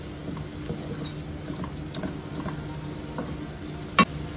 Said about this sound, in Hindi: और ग्रीन चिली इसे मिक्स करते हैं